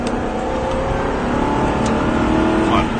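An Aston car on a track stage holds constant throttle and then accelerates into a descent. The engine drone is loud and close, with a rising rev over a few seconds.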